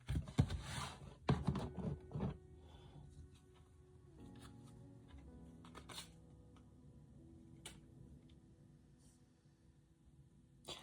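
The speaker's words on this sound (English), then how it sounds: "they're saying shuffle and pull 1 card" Cards riffle in a few quick, crisp bursts, then soft clicks and light handling noises continue quietly at close range.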